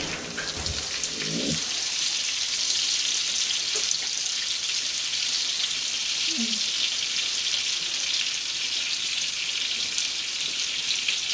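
Floured collops of meat fry in a pan with a steady, bright sizzle and crackle that fills the whole stretch. A couple of soft knocks come from handling the pan, and nobody speaks.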